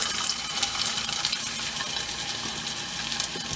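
Chicken chapli kabab patties set into a hot pan give a steady, close sizzle and crackle that carries on throughout without pause.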